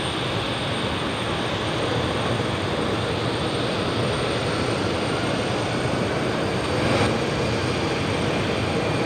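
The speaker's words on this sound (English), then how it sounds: "you've got Velocity 341 just touching down there, runway 19" Velocity flight 341 airliner touching down on runway 19 at Brisbane Airport, arriving from Melbourne: a steady, broad roar of jet engines and rushing air that holds level throughout, with a brief swell near the end and no voices.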